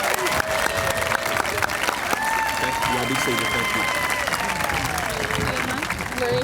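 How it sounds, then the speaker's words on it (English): Crowd applause and cheering at a Bardstown High School graduation for the class of 2013 valedictorians, loud and continuous, with a voice speaking briefly over the noise. "these are your valedictorians for the class of 2013. Let's give them one round of applause"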